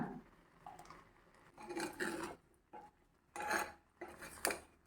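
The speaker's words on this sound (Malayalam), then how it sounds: "തവി കൊണ്ട് ചെറുതായി ഒന്ന് ഉടച്ചു കൊടുക്കാം. കുറച്ച് ഉപ്പ് കൂടി ചേർത്ത് ഇളക്കി കൊടുക്കാം." A ladle mashes and stirs cooked ripe banana pieces in a pot for pulisseri, giving repeated scraping and clinking bursts of metal against the pot, close and fairly loud, with short pauses between strokes.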